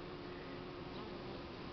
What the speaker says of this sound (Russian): Пчелки литок полируют, чтоб не надумали роиться они